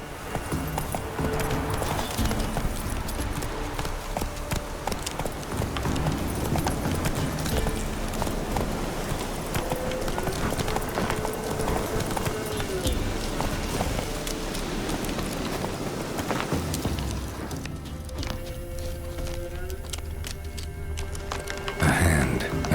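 Horse hooves galloping in The Witcher 3, a steady, quick clip-clop running the whole way through over game music and ambience, with no one talking.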